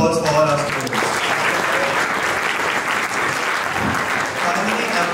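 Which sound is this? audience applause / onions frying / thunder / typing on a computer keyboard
audience applause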